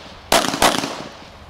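Two sharp, loud gunshots about a third of a second apart at an IDPA pistol shooting match, each a crisp crack followed by a short fading echo.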